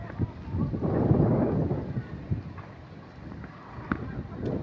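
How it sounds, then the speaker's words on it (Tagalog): Rain falling outdoors at Gardens by the Bay in Singapore, a steady broadband wash with gusty wind noise on the microphone and a few louder bumps, continuous through the short stretch. "kanina ang init-init. Ngayon naulan."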